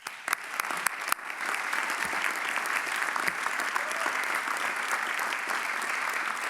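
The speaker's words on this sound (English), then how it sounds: "A round of applause," Loud, steady applause from a crowd at a college commencement ceremony, with a few sharp individual claps at the start before settling into continuous dense clapping that holds throughout.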